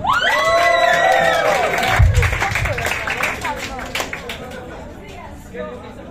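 A crowd at a comedy or musical show claps and cheers, loud and close, with whoops and shouting voices riding over the applause before it thins into scattered chatter.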